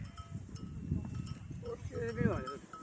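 Sheep bleat at a lakeside pasture, their calls carrying over a faint clank of cowbells while people talk nearby in Romanian.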